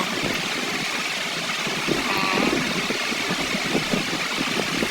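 Vehicle engine in the Free Fire battle-royale game, a steady droning hum with constant broadband rumble holding at even loudness for the whole stretch, no voices over it.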